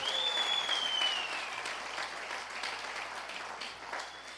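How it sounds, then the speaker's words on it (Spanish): A church congregation at Casa de Dios in Barquisimeto applauds in a dense, steady wash of clapping, soft and somewhat distant, with a brief thin whistle near the start. "más fuerte el aplauso a Jesús"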